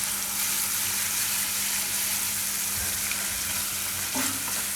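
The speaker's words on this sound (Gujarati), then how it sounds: "તો તેલમાં આ રીતે મિક્સ કરી લેવાનું, હલાવતું રહેવાનું એટલે ફાટે નહીં દહીં એમ" Yogurt is stirred into hot oil for a tomato raita, giving a loud, steady, continuous sizzle with a faint stirring scrape, close up and without speech.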